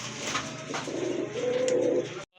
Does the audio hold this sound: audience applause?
no